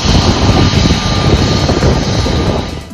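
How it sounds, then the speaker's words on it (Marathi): A special airliner carrying India's cricket team arrives at Mumbai airport from Delhi, its engines giving a loud, steady roar that holds throughout and fades slightly at the end. "त्यानंतर विशेष विमानाने दिल्लीहून टीम इंडियाचे मुंबई एअरपोर्टवर आगमन झाले।"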